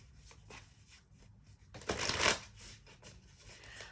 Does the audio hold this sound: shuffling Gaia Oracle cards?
yes